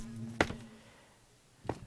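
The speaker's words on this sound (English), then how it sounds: "You can see all the bees there buzzing away, making that lovely honey for us" Bees in Minecraft, heard as two short buzzing bursts about a second apart over a faint low hum, fairly quiet and close, with no voices.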